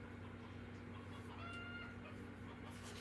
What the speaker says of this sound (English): one of the chickens is squawking about something